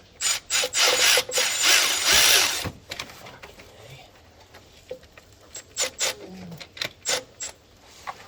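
A 13 mm wrench snugs down the lockdown bolts on a rebuilt GTP38 turbo on a Ford Super Duty, with a long scraping rasp up front, then a rhythmic series of short ratcheting clicks and metallic taps close by.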